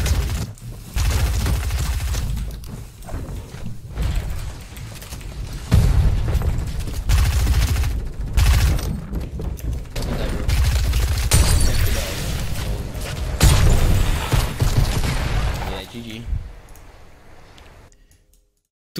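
Rapid SMG gunfire from a battle royale video game comes in repeated loud bursts with short pauses between them, and the volleys continue for most of the stretch before dropping off near the end.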